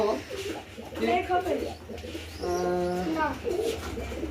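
Domestic pigeons in a cage give a couple of soft, throaty coos, close by, while people talk over and around them.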